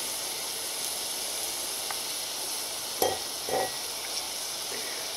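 Puffball mushrooms frying in a pan, with a steady soft sizzling hiss throughout and a couple of brief louder spatters or stirring sounds near the middle.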